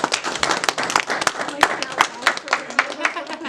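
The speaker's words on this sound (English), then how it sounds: "let's give Kyle a round of applause" A small audience claps in scattered, uneven bursts, close and moderately loud, with a voice briefly talking over the applause.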